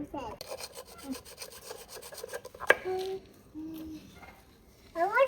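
A coconut shell sawn by hand with a blunt blade, heard as close, rhythmic rasping strokes with a few brief squeaks and pauses between them.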